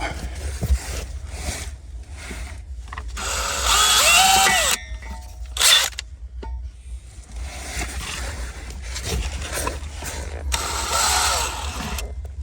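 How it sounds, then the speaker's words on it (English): A power drill whirs in several loud bursts while drilling through a well casing pipe, its pitch rising and dipping as it bites through material, with short pauses between runs. "we'll just drill through"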